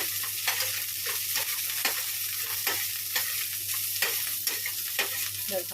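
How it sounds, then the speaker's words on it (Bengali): Soybean chunks frying in oil left over from frying potatoes, a steady hiss with regular scraping stir strokes about twice a second, close up and without voices. "সেই তেলেই ভাজি হচ্ছে সয়াবিন সয়াবিনটা একটু হালকা ভেজে নিয়েছি"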